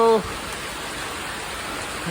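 Heavy rain falls as a steady, even wash of noise, with a brief voice fragment at the very start before the downpour continues alone.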